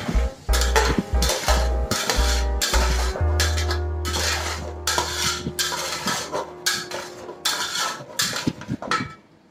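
Cooked potatoes with onions get stirred in a metal pan for aloo palak, a spoon scraping and clinking repeatedly against the pan in an uneven rhythm, close and fairly loud.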